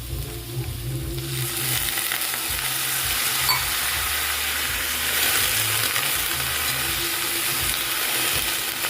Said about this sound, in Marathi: त्याच्यामध्ये आपल्याला एक ग्लास पाणी टाकून घ्यायचं आहे